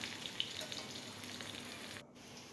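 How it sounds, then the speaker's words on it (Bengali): Sliced onions fry in a pan of oil with green chillies for a small-fish chorchori, giving a faint, steady sizzling hiss that dips briefly before settling again. "দেখো পেঁয়াজগুলো বেশ খানিকটা ভাজা ভাজা করে নেব"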